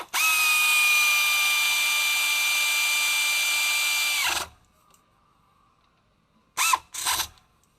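A power tool whirs steadily for about four seconds while the caliper bracket bolts are snugged on a 2010-2014 Chrysler 200 front brake. It stops, then gives two short bursts after a quiet gap, close and loud with no talking.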